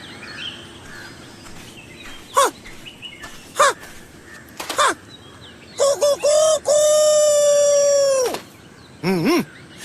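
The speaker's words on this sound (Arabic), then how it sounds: "كفاك إزعاجا أيها الديك" Short harsh calls ring out, then a rooster crows loudly and close, one long drawn-out cock-a-doodle-doo, followed by another brief call.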